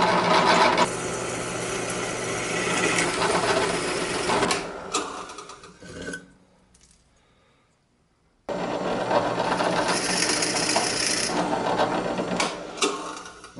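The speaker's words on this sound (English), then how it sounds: "I'm going to make a hole that's exactly in the center here" A drill bores a centre hole in aluminum with a loud, steady whirring hum that drops away into near silence midway, then resumes at full strength.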